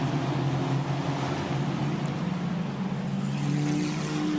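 FRECA formula race cars at Valencia give a steady, sustained engine drone with a continuous whine, heard from a distance and unbroken throughout.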